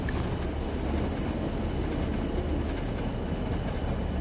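A BR heavy freight train in Train Sim World 2 runs along with a continuous loud rumble of wagons and engine drone, a steady roar with faint rhythmic clatter and no voices.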